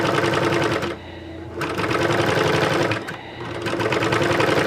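A serger overlocks and trims a fabric seam edge, running loud and steady in close bursts with two brief pauses as the stitching stops and restarts.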